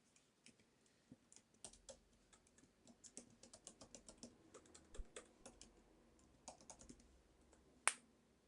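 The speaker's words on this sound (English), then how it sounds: "what you cannot see me doing is I am typing on YouTube" Clicks of a computer keyboard come in an uneven, close stream of typing, building after a sparse start and ending with one sharper, louder tap.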